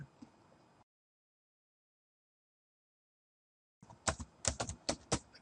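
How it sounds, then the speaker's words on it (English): Keystrokes on a computer keyboard, with brief typing and then a quick cluster of sharp, close taps as enter is pressed several times, after a silent gap and no talk. "so we're just pressing enter"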